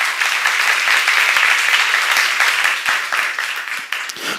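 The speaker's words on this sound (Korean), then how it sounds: "하나님께 박수 한번 쳐봐요." A church congregation claps together in loud, dense applause that holds steady for several seconds before thinning slightly toward the end.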